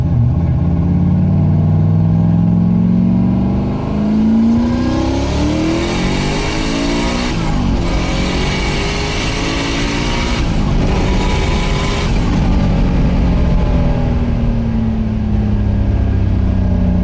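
Mazda Miata engine with a reworked fuel system revving hard up to 7,500 rpm, a loud sustained rising and falling engine note that climbs, drops off and climbs again, heard close with no talking.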